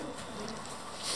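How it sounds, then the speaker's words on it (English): Doves nesting in the stonework of Raglan Castle give soft, low cooing calls, faint and somewhat distant against an open outdoor background, with no one speaking. "There are doves nesting somewhere up to my right."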